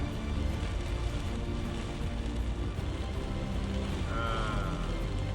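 Heavy storm rain drums steadily on a moving car during an evening drive home in Lamphun, a dense continuous wash of rain and road rumble with no pauses.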